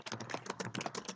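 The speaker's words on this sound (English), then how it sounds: "we can start typing if you want" Rapid typing on a computer keyboard, a dense run of close, crisp key clicks at an even quick pace with no talk.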